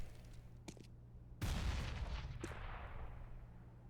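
SMG fire in a Counter-Strike match on the Mirage map, heard as a few faint, separate shots followed by one heavier burst with a trailing rumble, all fairly distant and quiet.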